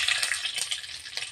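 Mustard seeds spluttering in hot oil, a short burst of bright crackling and popping sizzle with quick uneven spits close by.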